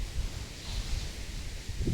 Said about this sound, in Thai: อนนี้ก็คือลมแบบว่าเหมือนฝนจะตกแล้วค่ะ